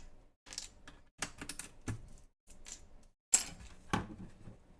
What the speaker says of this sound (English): I might pull off a couple more keycaps to really give that a look.